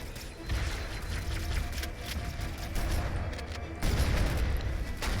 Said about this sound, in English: The explosion from the Banshee killed me